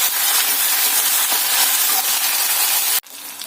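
Tomato paste being stirred and cooked in a pan, a loud steady hiss and sizzle that runs evenly before cutting off abruptly near the end, leaving a quieter sizzle.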